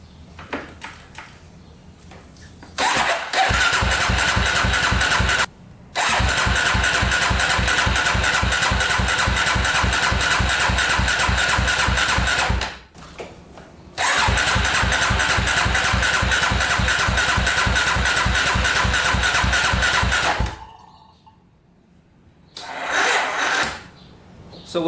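Small engine being tested for fuel flow, with fuel pumps that often fail. It starts and runs in fast chugging stretches that cut out and restart several times, loud and close, with no talk.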